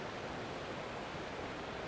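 Steady broadband rush of a forest stream feeding a waterfall among deadfall and Douglas fir in Strathcona, continuous and even with no breaks or voices.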